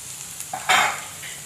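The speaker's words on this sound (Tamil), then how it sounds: "இப்போ அந்த மீதி இருக்கிற நெய்யிலே நம்ம அவல் எடுத்து வறுத்து எடுத்துக்கலாங்க" Flattened rice (aval) roasting in ghee, heard as a brief dry stirring scrape with a soft sizzle in a quiet kitchen.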